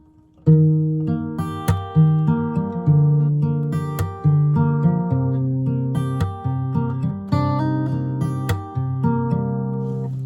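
Slow acoustic guitar notes plucked one at a time, each new note sounded by a finger hammering onto the string, ringing clearly with no talking.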